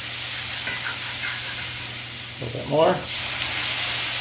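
Water poured into an overheated pan while cooking tomato gravy sets off a loud, steady sizzle and hiss, with a sharper burst of spitting and steam partway through and a brief spoken remark over it.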